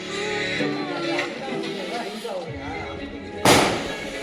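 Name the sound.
balloon bursting in a party game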